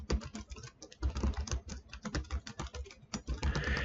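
Rapid, steady typing on a computer keyboard while writing C# code, close and clear with continuous irregular key clicks and a few louder strokes.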